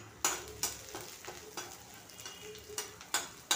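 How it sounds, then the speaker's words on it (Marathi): Garlic and green chillies frying in hot oil, crackling sizzle punctuated by several sharp spoon scrapes and knocks against the pan, quiet and close, no speech. "आता हे तेलामध्ये ना लसूण आणि मिरची टाकून घेते."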